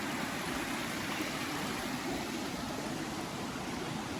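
Creek water flowing steadily beneath a small bridge, a continuous broadband rushing and gurgling wash, close and even throughout with no voices.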